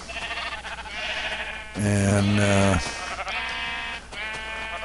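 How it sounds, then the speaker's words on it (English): Sheep in the Minecraft video game give several bleats, one loud and close in the middle and fainter ones before and after, with a brief spoken word. "We're back to 64 sheep."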